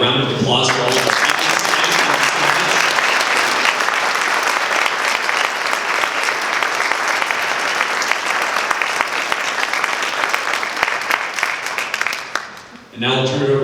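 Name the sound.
audience applause for the council candidates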